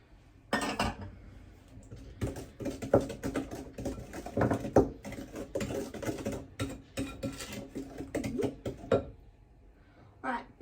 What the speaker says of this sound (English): I'm just going to use my scraper to scrape out the bowl